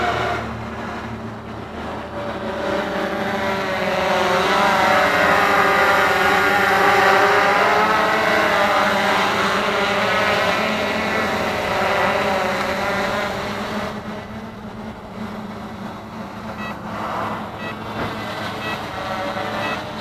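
An APM F550 brushless hexacopter holding a GPS hover outdoors in light wind, its rotors giving a continuous steady whirring buzz, moderately loud, swelling slightly in the middle and easing toward the end.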